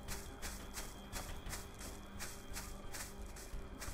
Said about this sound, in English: Back to footstep overload.